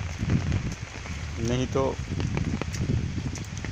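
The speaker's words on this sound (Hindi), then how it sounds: "बरसों बाद ऐसी बारिश हुई है" Heavy rain pours down on a village farm, a steady close hiss of falling water, while someone talks over it.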